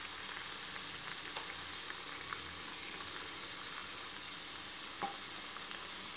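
Ground onion paste sizzles steadily in a hot pan while making beef pasanda, a dense continuous frying hiss with faint crackles and a soft pop near the end; no one speaks.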